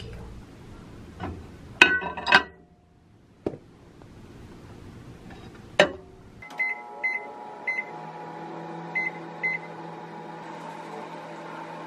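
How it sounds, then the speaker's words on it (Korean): A microwave oven in a small kitchen, switched on for three minutes: scattered clinks and door thumps, then a beep series and a low steady hum as it runs, punctuated by further beeps. "전자레인지에 3분 돌려줄게요"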